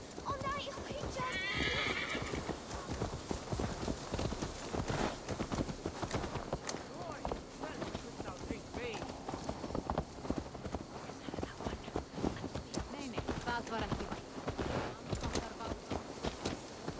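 Horse hooves clip-clopping and a whinny near the start in the video game Assassin's Creed Valhalla, heard under steady game music and character speech throughout.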